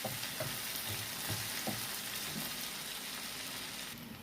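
Fish masala curry, made with parshe fish in oil, is stirred in a frying pan with steady sizzling and a few soft scraping strokes, close and continuous, with no talking.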